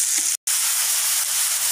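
Onions and tomatoes frying in a pan give a steady, close, high-pitched sizzle with one brief silent dropout.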